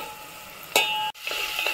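Onion paste stirred and sautéed in a pan, with a soft sizzle, a sharp clink of a utensil against the pan, and scraping, close and brief.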